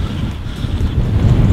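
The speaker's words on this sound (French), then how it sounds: "il y a beaucoup de vent, donc j'espère que vous nous entendez assez bien." Strong wind gusting on a hilltop, a loud, continuous buffeting roar that swells toward the end and batters the microphone, with no voices.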